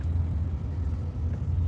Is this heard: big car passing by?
yes